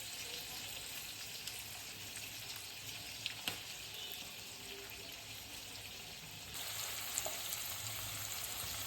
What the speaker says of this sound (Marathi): आपला कांदा आणि बटाणे फ्राय होईपर्यंत